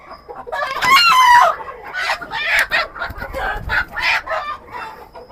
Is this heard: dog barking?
no